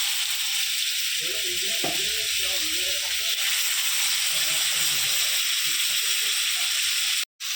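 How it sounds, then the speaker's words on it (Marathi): Chicken leg pieces shallow-fry in oil with a continuous, fairly loud sizzle and hiss that runs nearly unbroken. Faint background murmur or music sits underneath, and the sound cuts out briefly near the end. "ते आता आपण मस्तपैकी शॅलो फ्राय करणार आहोत"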